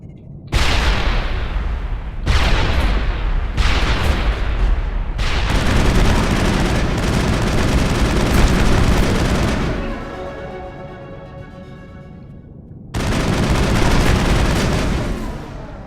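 Gunfire and grenade explosions in Mass Effect, clearing a hallway: loud bursts of shooting broken by brief pauses, then a long sustained roar and ringing decay, followed by more heavy fire.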